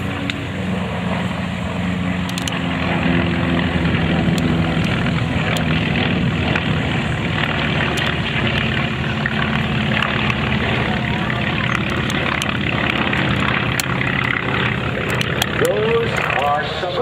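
An F4U Corsair, a large single piston-engine fighter, flies past at the 2009 Indianapolis air show, a steady, broad, droning engine roar sustained at moderate distance for the whole stretch.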